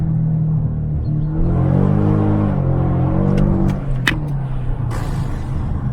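A Mercedes-Benz E500 Coupe with a 5.5-litre V8 engine revs hard while drifting, giving a loud, continuous rumbling engine note that rises and falls in pitch, with sharp tyre and mechanical noises near the end.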